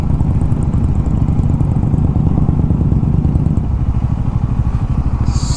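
Superbikes including a Suzuki Hayabusa, a GS and a Triumph gather for a Republic Day group ride in Tirupati, giving off a loud, steady engine rumble with a throbbing pulse that runs the whole time.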